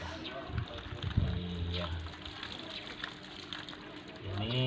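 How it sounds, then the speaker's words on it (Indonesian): Water is poured slowly over soil in plant pots, giving gentle splashing and gurgling with a few louder gushes. A person speaks briefly over it. "Setelah tanahnya masuk ke pot semua, kita siram pelan-pelan sampai tanahnya benar-benar basah."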